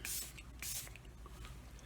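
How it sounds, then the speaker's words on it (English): Two quick hissing bursts of setting spray hit a face up close, with a short pause between them, followed by faint soft rustling. "I'm just going to use a little setting spray."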